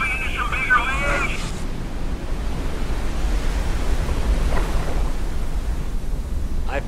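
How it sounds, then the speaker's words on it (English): Whitewater river rapids and waves surge around a paddled raft, a loud steady broadband roar of rushing water that carries on throughout, with a voice speaking over it briefly at the start. "We're kind of coming into some bigger waves."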